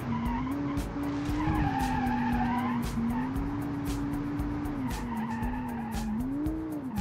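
Tires skidding under hard braking on a taxi in the BeamNG driving game, a sustained wavering squeal over a low engine drone, loud and continuous for several seconds with small clicks throughout.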